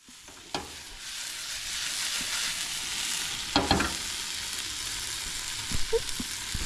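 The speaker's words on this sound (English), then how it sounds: "Added me whisked egg in, wait for that to cook a bit" Whisked egg sizzles and fries steadily in a pan for an omelette, cooked outdoors at a beach camp, with a few sharp clatters of utensil and pan over the constant crackle.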